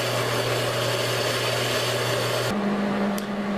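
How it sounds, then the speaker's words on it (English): Power tool cutting and grinding a steel piece for a heavy-duty mobile bench vice stand, a steady close, loud motor whine that drops and shifts pitch partway through before running on alone. "Got this piece cut, the edge is ground, cleaned up the inside of the rim"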